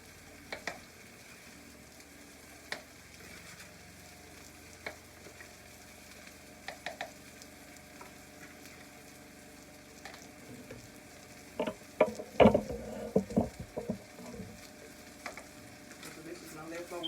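Meat for a pot roast searing in a pan, a low steady sizzle with a louder burst of spattering crackle partway through, fairly quiet and without talk.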